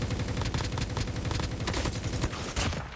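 Rapid automatic gunfire in the mobile shooter game Call of Duty Mobile, dense repeated bursts of shots that run loudly and almost continuously through the moment.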